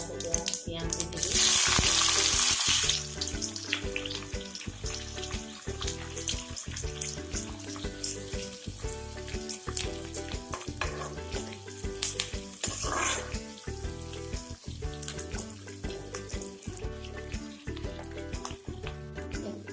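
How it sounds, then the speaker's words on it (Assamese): Whole cumin and onion frying in hot oil, a loud, steady close sizzle with a sharp hissing burst early on and stirring clatter throughout. "তেলটো গৰম হৈ গৈছে, অকণমান এনেই মই গোটা জিৰা দিছোঁ, তাৰপিছত পিঁয়াজ দি দিছোঁ।"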